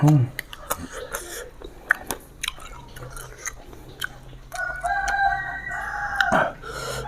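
A rooster crows partway through, a clear rising call amid scattered clicks and crunchy chewing-like noises, with people talking nearby.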